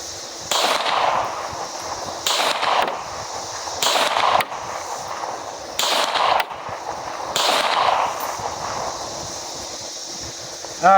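Five loud shots from a Tisas B9R 1911 Duty double-stack pistol fired outdoors at a distant steel target, each sharp crack followed by a ringing tail, spaced about one and a half to two seconds apart, with steady wind noise underneath.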